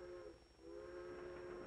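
A train rolls along the tracks with a steady rumbling drone and a sustained tonal whine, continuous and fairly close, with a brief dip before the noise swells back.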